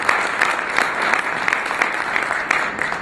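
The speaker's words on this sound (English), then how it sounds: "A big round of applause" Sustained audience applause at an expo event, a dense, steady wash of many hands clapping close by with no break, lingering through the whole stretch after a chairman is introduced.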